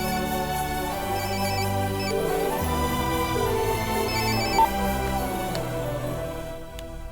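A phone ringtone plays a bright, continuous electronic melody, fairly loud and close, in a Hindi-dubbed South Indian film scene; no one speaks.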